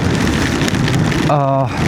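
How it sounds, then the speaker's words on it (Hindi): Heavy rain pours down during a motorcycle ride on a Guerrilla 450, a loud, constant hiss of water, and a voice briefly speaks over it near the end. "फिर से बारिश शुरू हो गई है।"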